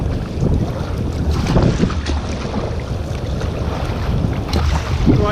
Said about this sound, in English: Right now I'm paddling in with the tide and with the wind and with the swell behind me